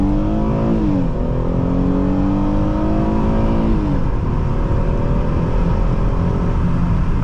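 A 2014 Ford Taurus Police Interceptor with the 3.7L engine accelerates hard from inside the cabin, its engine note rising through two gear shifts under a loud, steady road roar.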